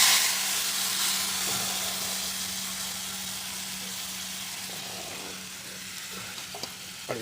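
Dried red chillies and spices sizzle in hot oil over a wood fire, a steady close frying hiss with faint crackles that thins slightly toward the end, no talking.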